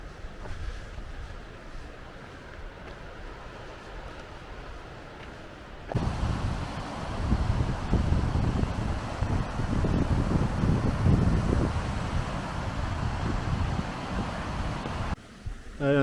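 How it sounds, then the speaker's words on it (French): Two mountain waterfalls converge along an alpine trail near Névache in the Clarée valley, giving a steady broadband rush that grows louder and fuller after a few seconds, with wind buffeting the microphone and no talk. "Voilà, on a la confluence de deux cascades juste devant nous."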